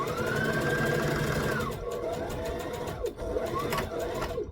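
A home sewing machine stitches a tutorial garment seam, a steady close mechanical whir that runs continuously, briefly slows and pauses, then picks up again in short bursts.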